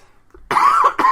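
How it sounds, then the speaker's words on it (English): A single sharp cough rings out close and loud, followed by a brief second burst, with no talking around it. "Still working on that cough, guys."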